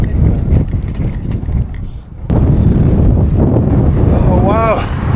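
Strong gusting wind buffets the microphone on the Karakoram Highway in Xinjiang, a loud, constant low roar that briefly eases before surging back, with a short voice-like sound near the end.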